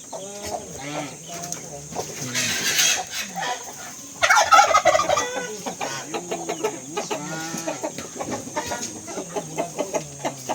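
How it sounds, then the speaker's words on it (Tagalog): A turkey gobbles loudly nearby in repeated rattling bursts, with other fowl clucking around it. "Mayroon ding mga pabo. Ito yung pabo."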